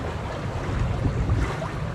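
Sailboat under full junk sails at sea, with continuous rushing wind and wave wash, steady and fairly loud, no voices.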